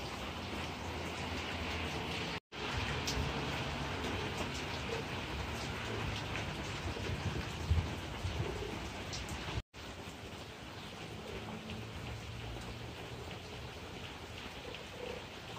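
Steady rain pours down continuously, a dense hiss of drops on a hard surface, broken by two brief dropouts.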